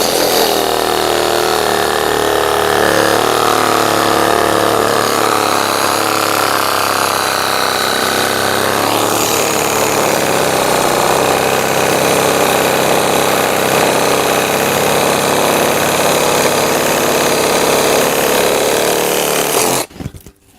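A WOYOFADA cordless reciprocating saw cuts through thin branches, running loud and steady up close for about twenty seconds before stopping abruptly at the end.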